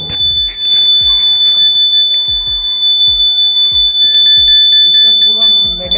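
A homemade earthquake alarm working model gives a steady high electronic beeping tone while being shaken, with thumps and knocks from the shaking underneath and someone talking over it.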